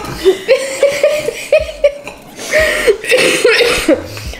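A person coughs repeatedly in short, raspy bursts mixed with voiced, laugh-like breaths, close up and fairly loud.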